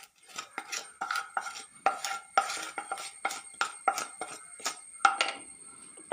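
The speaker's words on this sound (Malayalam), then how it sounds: "നല്ലോണം മിക്സ് ചെയ്ത് കൊടുക്കാം." A spoon stirs and mixes breakfast batter in a bowl, giving a quick series of sharp clinks and scrapes against the sides, close and fairly quiet.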